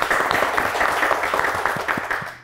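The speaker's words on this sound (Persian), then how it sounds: "بسیار خوب، تشویق کنین سعیده جان را." Studio audience applauding on an Afghan television quiz show, a steady wash of clapping at close range that holds for a couple of seconds and fades slightly at the end.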